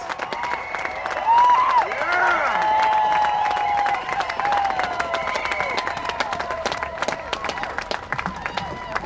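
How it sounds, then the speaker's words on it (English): An outdoor crowd at a rally at the BC Legislature claps and cheers in steady, sustained applause, with whoops and voices rising over it. "Another big round of applause for this inspiring young couple"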